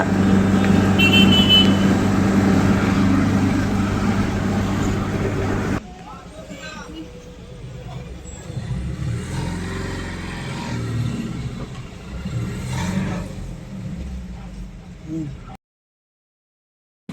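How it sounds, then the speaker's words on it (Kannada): Lorry on a road heard from inside a slow-moving car near Mandya and Maddur, with a steady loud engine rumble that drops to a lighter road drone midway, voices talking over it. "ಇಲ್ಲೇ ಹೋಗೋಕಡೆಗೆ ಲಾರಿ ನೋಡಿ ಎಂಥ ಹೊಡ್ತಾ ಸೌಂಡ್ ಕೇಳ್ತಾ ಹೋಗೋಕಡೆಗೆ"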